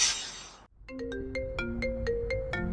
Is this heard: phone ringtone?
yes